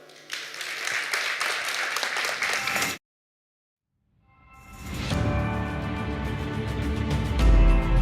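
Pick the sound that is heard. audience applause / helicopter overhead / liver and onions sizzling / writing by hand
audience applause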